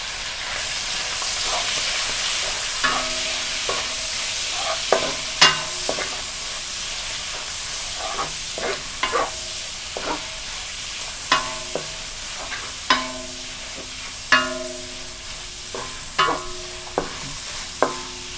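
Bite-sized pork belly frying in a pan for a stir-fried noodle dish: a steady bright sizzle runs throughout, broken by repeated sharp clinks and scrapes of a spatula at irregular intervals, close with no talk.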